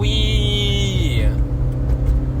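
Car engine accelerating up a highway entrance ramp, a loud, steady rumble with a rising, then falling whine of engine pitch, then continuous road noise, close and dominant with no voices.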